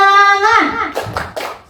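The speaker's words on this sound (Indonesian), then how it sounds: "Tepuk semangat." A group claps a short rhythmic spirit clap at a morning teachers' session, a few sharp bursts of hand claps following a sung or drawn-out voice.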